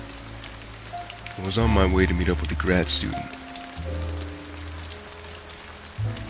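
Steady rain falls through the night as a soft, constant wash of noise, running beneath a person speaking for most of the stretch.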